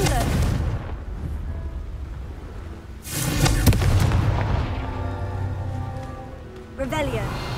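Confringo blasting spells exploding in Hogwarts Legacy, several heavy booming bursts with crackling debris, the loudest near the middle and another near the end, with a voice calling out between them.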